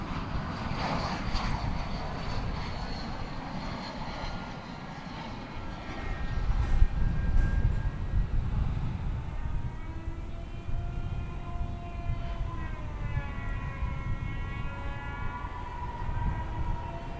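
American Airlines Airbus A321 arriving at DFW Airport from Las Vegas, a steady jet engine rumble at moderate distance that swells midway and carries a shifting high whine.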